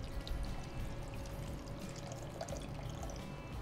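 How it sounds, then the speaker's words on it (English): Tender coconut water poured into a mixer grinder jar, a steady close liquid pour with soft splashing and trickle running the whole time with no talking. "So to the mixer grinder, I'm to add in about half a cup of tender coconut water."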